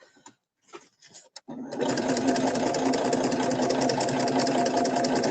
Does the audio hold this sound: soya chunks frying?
no